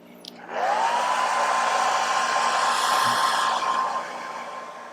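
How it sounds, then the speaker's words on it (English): Hair dryer blowing on a freshly painted miniature, whirring up to a steady loud rush with a rising whine, running about three seconds before easing back down. "Give this guy a little hair dryer action."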